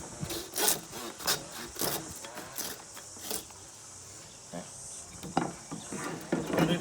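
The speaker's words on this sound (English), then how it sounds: "Get your saw, and we're going to take the flap off." Handsaw cutting through a whole lamb middle to remove the flap, a series of rasping strokes at close range, with quieter gaps between bursts.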